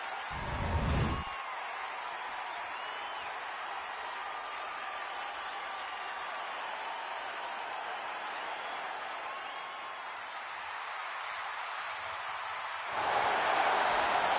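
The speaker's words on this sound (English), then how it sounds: "The crowd on their feet." A crowd in the WWE 2K25 wrestling video game roars and cheers steadily, a broad continuous wash of arena noise with louder bursts at the start and end.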